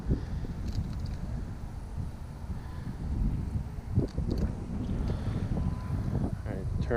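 Wind gusting against the microphone while bass fishing from a boat on a windy day, a low continuous rumble under someone talking nearby.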